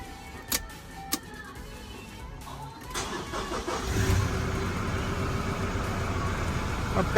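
Toyota Aqua car at a garage in Pakistan: two sharp clicks, then the engine cranks and catches and settles into a steady, close warm-up idle that builds slightly toward the end.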